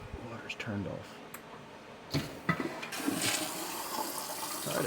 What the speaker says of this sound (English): Alright, it flushed.